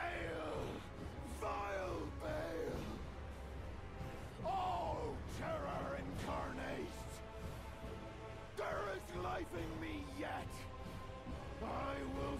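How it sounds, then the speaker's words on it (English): A man screaming and wailing on the ground in Elden Ring: Shadow of the Erdtree, repeated anguished drawn-out cries with rising and falling pitch, loud and close over a low ambient drone. "we interact with this guy screaming on the ground"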